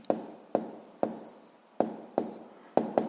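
Pen strokes on paper during a physics exercise, heard as short scratchy strokes in an irregular rhythm, close and fairly quiet, with no talking.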